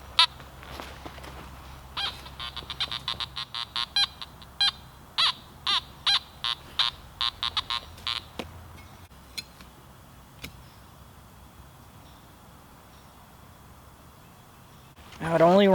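A metal detector's search coil passes over a buried target in a junk-filled cellar hole, giving a run of sharp, evenly spaced beeps that stops, then isolated clicks and quiet before a loud burst at the end.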